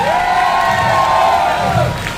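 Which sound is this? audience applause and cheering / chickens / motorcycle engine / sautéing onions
audience applause and cheering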